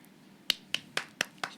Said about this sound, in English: I'm clapping because